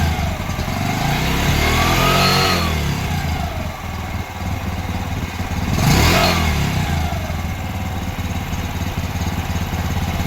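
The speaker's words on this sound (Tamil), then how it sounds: "வண்டி உங்களுக்கு ஸ்டார்ட் பண்ணியாச்சு" Engine of a motorbike-type vehicle fitted with an automatic cut-off relay and no battery, running loud and close with a steady drone that swells in two revs, no voices over it.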